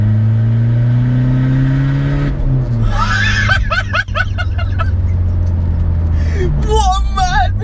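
Skoda Fabia VRS turbo diesel hatchback with a 240 BHP hybrid turbo pulling hard in third gear: steady loud engine drone that shifts pitch partway through, with people talking and laughing over it.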